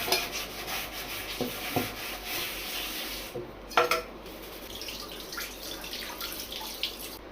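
Cooked tomatoes are washed with water in a kitchen, with dripping and running water, rubbing, and clinking of dishes and utensils, close and fairly busy with a few sharper knocks.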